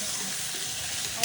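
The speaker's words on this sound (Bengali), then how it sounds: "আলু ভাজা হচ্ছে না?" Potatoes frying in a pan give a steady, close sizzling hiss that runs continuously for a moment.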